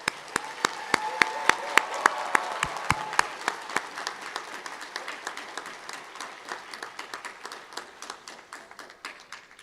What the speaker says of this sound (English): Audience, please join me in giving them a well-deserved round of applause.